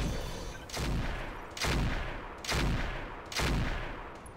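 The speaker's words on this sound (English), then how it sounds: "Firing full complement on him." A mech in the Roguetech game lets loose a full weapon volley, four heavy booming blasts at roughly one-second intervals, each a broad burst that trails off before the next lands, with no talking.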